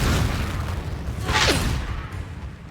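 A Confringo fire spell blasting in the video game Hogwarts Legacy, a deep booming burst with a whooshing rise in the middle of a rumbling low-end game backdrop.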